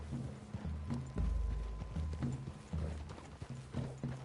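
Horses trotting in the video game Red Dead Redemption 2, with a steady, rhythmic clip-clop of hooves on the ground, close and moderately loud, alongside faint background ambience.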